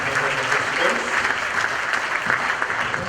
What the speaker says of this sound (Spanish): quisiera por favor pedir un aplauso a todos nuestros paneles